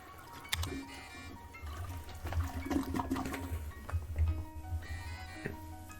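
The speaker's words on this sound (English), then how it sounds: "Flush the toilet to get 20 EXP." A toilet flushing in a video game, a swirling watery rush with gurgling and trickling over several seconds, moderately loud, with no talking.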